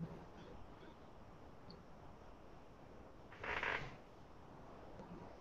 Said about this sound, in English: you start to hear just a very slight sound of sort of creaking in the bedroom that Juno was in